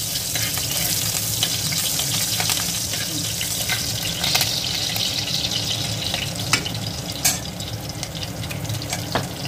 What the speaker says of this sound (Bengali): তার মধ্যে আমি রসুন কুচি, আদা কুচি আর লঙ্কা কুচি ফোড়নে দিয়ে দিলাম